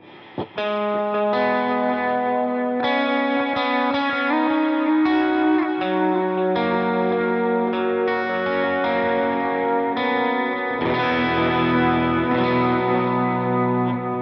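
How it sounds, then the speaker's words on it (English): Electric guitar chords through a Line 6 POD Go ring out with a heavy, washy reverb and chorus shimmer, sustained and lush, playing alone for several bars. "Definitely very usable, kind of churchy tone."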